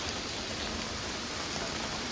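Morning rain falls on garden plants including a lotus, a steady soft patter and hiss with no voices.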